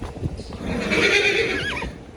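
A mare that plays up when led out of her stall gives a loud, close whinny that rises and wavers, preceded by a few hoof clops on a farm.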